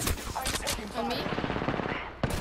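Rapid automatic gunfire in the battle royale video game Apex Legends, a dense continuous burst running through the whole stretch with a sharp shot near the end, with voices calling out over it.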